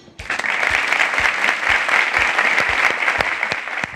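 Guests at a charity fundraising dinner break into applause, a full sustained burst of clapping that starts abruptly and continues evenly, with a few sharper individual claps standing out.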